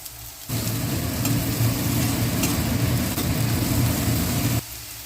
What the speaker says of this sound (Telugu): ఉల్లిపాయలు ఇలా వేగిన తర్వాత అల్లం వెల్లుల్లి పేస్ట్ కూడా వేసేసుకోవడమే.